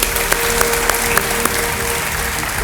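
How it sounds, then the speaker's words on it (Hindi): Studio audience applause on a Hindi television game show, a steady dense wash of clapping with a few sharper accents, close and continuous throughout, with a faint tonal hum beneath. "सारे दर्शकों की तरफ से, जितने भी यहाँ आज मेहमान आए हुए हैं उन सब की तरफ से तालियों के साथ हम इनका अभिनंदन करते हैं।"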